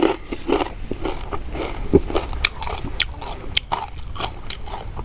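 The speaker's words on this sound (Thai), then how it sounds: "เขาว่ามันกรอบกรอบกรอบกรอบยางไรเนาะ ฟังเสียงมันก่อน" Crisp salad vegetables served with spicy som tam and dipping sauce are bitten and chewed up close, giving irregular loud crunches and wet chewing under quiet surroundings, no talk.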